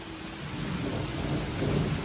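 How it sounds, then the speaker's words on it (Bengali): Heavy monsoon rain pours steadily with a low rumble of thunder rolling underneath, a dense continuous wash of sound with no voices. "জোরে বৃষ্টি চালু হয়ে গেল"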